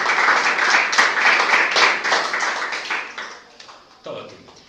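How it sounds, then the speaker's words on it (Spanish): Audience applause for a guest lecturer at a music seminar, dense clapping from a room of listeners that gradually thins and fades out, followed by a brief voice at the end. "Un aplauso para la maestra Lisette."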